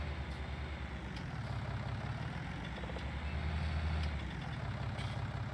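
A tractor engine idles steadily in a farming video game, a low continuous rumble holding at a constant level with no talk over it.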